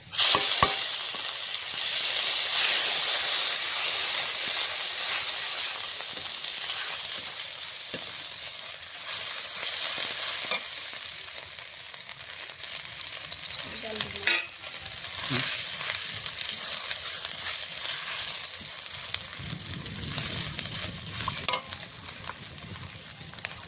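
Ginger paste fries in a pan for lentils with taro, giving a steady, close sizzle. A utensil stirs and scrapes it at irregular moments, making the hiss surge and crackle. The frying runs on with no voices.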